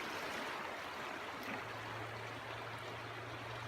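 The Fraser River flows with a steady broadband rush of water, distant and even, with a faint low hum and no voices.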